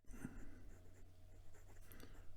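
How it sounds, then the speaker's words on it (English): Faint, close scratching of a Tibaldi Bononia fountain pen with a double broad steel architect nib moving across paper in a few short strokes, alone in a quiet room. "Now I showed you Jack writing with the double broad nib right out of the box"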